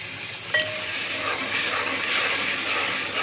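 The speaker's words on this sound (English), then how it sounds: "Keep adding the water little by little, otherwise possibilities are there the lumps will get formed" Water poured into a hot pan of Sindhi kadhi gives a sudden clink and then a steady hiss and sizzle that swells and lingers, fairly close and unaccompanied by talk.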